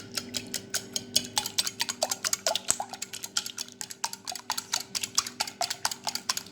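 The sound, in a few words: whisking eggs in a bowl for an omelette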